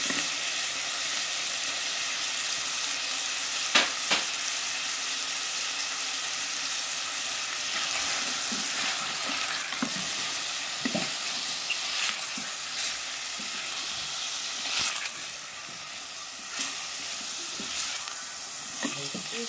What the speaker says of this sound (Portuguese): Vou colocar aqui o bacon.